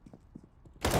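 Gunfire in the game Counter-Strike: Global Offensive, a few soft muffled thumps and then a sudden loud burst of rapid shots filling the end.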